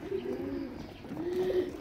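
Pigeons in a loft at feeding time, with soft cooing calls close by in two drawn-out bouts over a quiet background.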